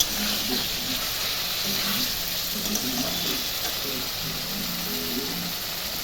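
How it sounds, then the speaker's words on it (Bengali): Potatoes and paneer fry in a pan for biryani, giving a steady, even sizzling hiss that runs without a break, close and moderately loud. Faint clinks and stirring sound beneath it, and no one speaks. "একটু ভালো করে ভাজা ভাজা করে একটু ঝোল দিব গ্রেভিটা হওয়ার জন্য"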